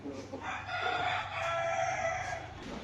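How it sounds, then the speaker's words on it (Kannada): A local native country rooster crows once, a fairly faint, drawn-out call lasting about two seconds, heard alone with little background noise. "ಸೊ ಇವು ಲೋಕಲ್ ನಾಟಿ ಕೋಳಿ ಇವು"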